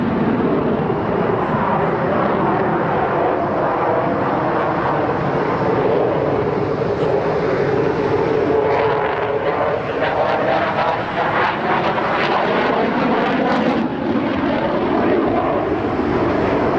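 Eurofighter Typhoon combat jet flying, a loud continuous roar of engine noise holding steady for the whole span with a faint whine rising near the middle, no voices over it.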